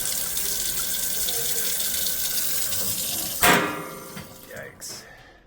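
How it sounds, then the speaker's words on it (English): Water bursts from a faucet after the supply to a 6-gallon water heater is turned back on, a loud sudden gush after steady background hiss, followed by a few sputtering spurts. "let's turn the water back on"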